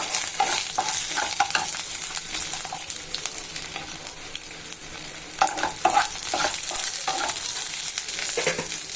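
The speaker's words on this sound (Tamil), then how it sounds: "இதோட ஒரு ஒரு இன்ச் அளவுக்கு இஞ்சி ஒரு அஞ்சாறு பல் பூண்டு அதுவும் சேர்த்துக்கலாம் நல்லா வதங்கட்டும்" Chillies, ginger and garlic sautéing in a pan, a steady sizzling hiss with repeated scraping stirs, close up and continuous with no voices.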